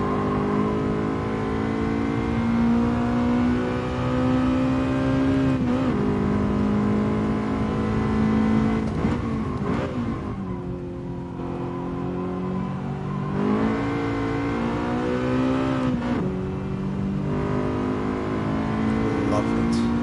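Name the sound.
Honda VTEC engine revving in Gran Turismo Sport video game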